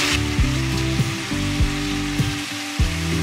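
Round tomato slices, slit green chilies, turmeric, chili powder and cumin powder frying in a pan make a continuous sizzle, with a few dull knocks spaced through it.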